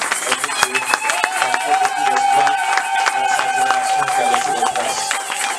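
A church congregation cheers and claps in praise, a dense, loud wash of crowd applause and voices filling the room throughout.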